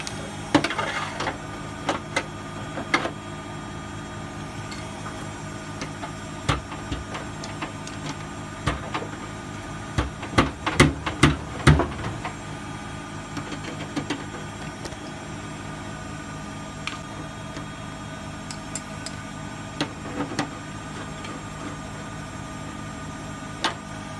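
A washing machine spins steadily, a constant mechanical whir and hum close by with scattered clicks and knocks from nearby handling, including a burst of rattling partway through.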